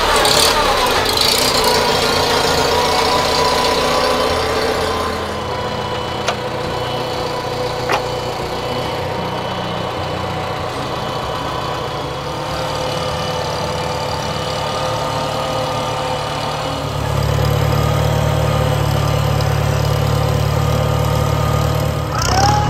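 A Farmall tractor engine runs at a steady idle with a continuous low rumble that dips slightly midway, then a deeper, heavier throb joins in toward the end.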